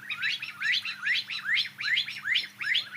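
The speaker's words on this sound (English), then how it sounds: "So that would be a partridge." Partridge calling: a repeated series of rising, scratchy chirping notes at a steady rhythm, about six calls, clear and fairly close with a faint low hum beneath.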